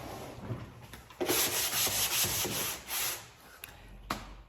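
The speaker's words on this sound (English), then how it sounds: "Sometimes it's a good idea to sand in between coats anyway and see if anything comes off." Sandpaper rubbing over painted furniture between paint coats, a steady scratchy back-and-forth that swells loud in the middle and trails into a few short final strokes, with no voices.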